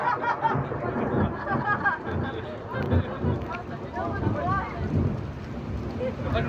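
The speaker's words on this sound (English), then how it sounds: "There comes the rain again." Rain falls with a low thunder rumble during a thunderstorm at an Orlando, Florida waterpark, a steady wash under people talking nearby.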